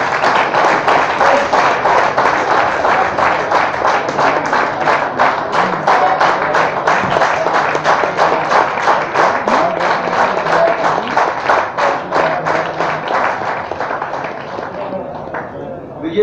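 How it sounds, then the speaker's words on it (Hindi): Sustained audience clapping and applause at an award stage event, loud and dense with rapid hand claps throughout, tapering off near the end. "तालियां रुकनी नहीं चाहिए।"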